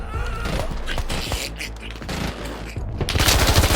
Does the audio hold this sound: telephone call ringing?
no